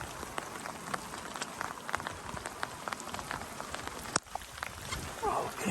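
Heavy rain falls steadily along the Blue Ridge Parkway, a dense patter of close drops hitting surfaces with a sharp knock partway through, and a voice is briefly heard over the downpour.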